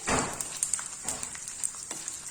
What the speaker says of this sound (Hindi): तो सबसे पहले हम इसमें जो हमने गोंद लिया था इसको भूनेंगे, लेकिन मीडियम फ्लेम पर ही आप भूनिएगा